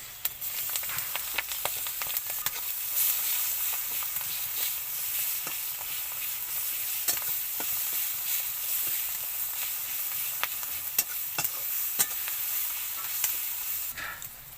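Cumin and onion sizzle steadily in hot oil in a pan for a prawn, bean and potato fry. The dense frying hiss runs throughout, broken by frequent short clicks and scrapes of stirring, close up with no talking.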